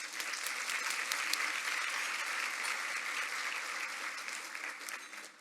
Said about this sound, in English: Another round of applause, please, for our education partners.